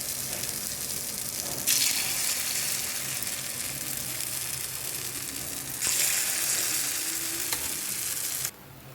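Appe batter poured into a hot appe pan sizzles loudly and steadily, with two bright surges of hissing as more batter hits the hot metal, then a sudden drop near the end.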